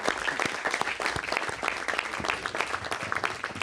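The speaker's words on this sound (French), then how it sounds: "Je crois qu'on peut s'applaudir collectivement, bien sûr." Applause from an audience at a municipal council meeting in Vertou, a steady patter of many hands clapping, moderately distant and continuous, with no voices over it.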